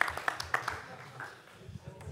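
Brief scattered applause from a farmers' general assembly audience, a few sharp hand claps trailing off into room murmur.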